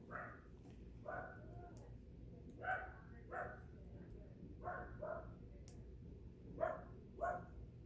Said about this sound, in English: Got some dogs outside going crazy.